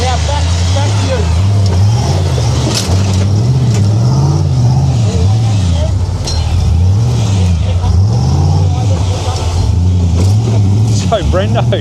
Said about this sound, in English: So Brendo just driving up over that rock that Sherry got hung up on.